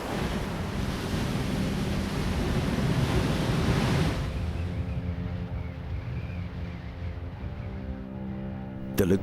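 Heavy ocean surf pounds against a vast ring of coral reef, a dense continuous roar of breaking waves with wind rushing over it, easing slightly partway through.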